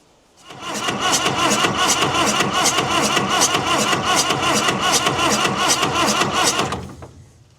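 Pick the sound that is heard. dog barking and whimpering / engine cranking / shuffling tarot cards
engine cranking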